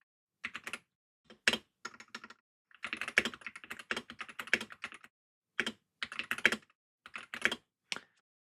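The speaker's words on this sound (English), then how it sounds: "I'm just going to type the word fast really fast." Fast typing on a Wooting 60HE+ keyboard: short bursts of crisp, clacky keystrokes in quick flurries separated by brief pauses, close and clear with no voices.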